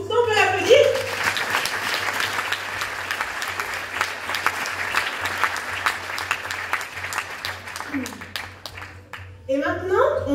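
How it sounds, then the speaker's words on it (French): An audience at a hypnosis show breaks into sustained applause, a dense wash of clapping that starts after a voice, fades briefly, then swells again while a speaker talks over it. "merci pour ça, on peut l'applaudir."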